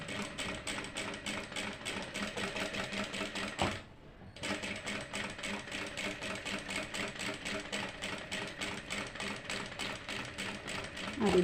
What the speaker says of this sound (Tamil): அதே மாதிரி அடுத்த கர்வையும் இதே மாதிரி ஸ்டிச் பண்ணிடலாம்.